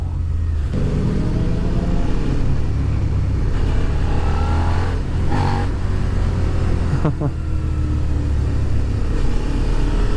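A Suzuki SV650 motorcycle on a test ride has its engine revs raised by the clutch assist, a low rumbling drone with rising and falling pitch sweeps under steady road noise while a rider talks over it.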